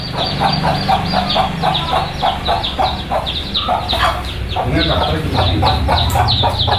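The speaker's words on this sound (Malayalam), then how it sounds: "അമ്മിണിക്കോഴിക്ക് ആറ് കുഞ്ഞുങ്ങൾ" A hen clucks steadily with her six newly hatched chicks, whose shrill, rapid peeping fills the clip at close range and fairly loud, a constant chorus of chirps over the mother's low clucking.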